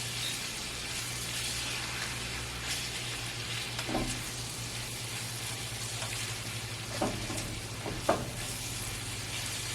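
Beef and onions fry in a pan for a beef stir fry, a steady close sizzle with occasional stirring scrapes and a low constant hum beneath, no one talking.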